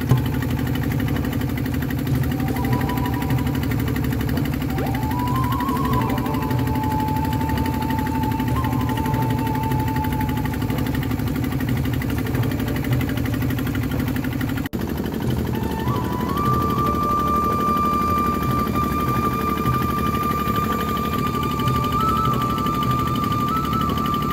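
A ferry boat engine chugs steadily on the fast-flowing Jamuna river during stormy weather, a continuous mid-pitched idling drone close by with faint whining tones rising over it and no voices.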